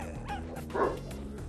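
Small dog Ttori barks and yips in a short burst, loudest in one sharp, close bark near the middle, with softer whimpering yelps around it; no one speaks.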